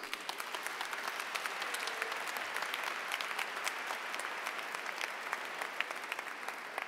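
Steady, dense applause from a large church congregation at Sunday Mass continues throughout at an even level, with sharp individual claps standing out against the wash.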